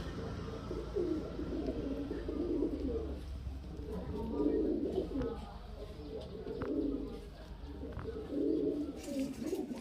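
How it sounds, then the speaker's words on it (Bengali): A male Madrasi pigeon coos in soft, low, repeated rolling phrases, several bursts spaced across the stretch, close by with faint background chatter and occasional light clicks. "এই যে দেখুন এটা নর পায়রা।"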